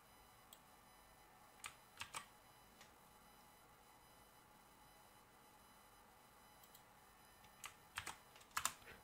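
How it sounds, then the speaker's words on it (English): Sparse bursts of typing on a computer keyboard during a Resident Evil 2 Leon playthrough stream, faint clusters of clicks around two seconds and again near the end over low background hiss. "Sorry if you guys hear the keyboard."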